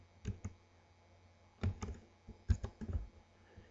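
Quiet clusters of computer keyboard taps come in a few short bursts, faint and close, with pauses between them.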